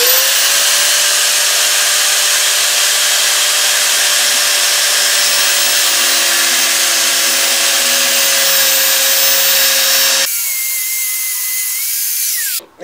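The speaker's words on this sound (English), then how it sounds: "it's cutting fine, but I'm going to have to keep turning because I don't have the depth sort of to plunge the disc" A cutting disc on a power tool plunge-cutting into metal, a loud continuous high whine that holds steady, then drops sharply in pitch and level near the end as the cut eases off.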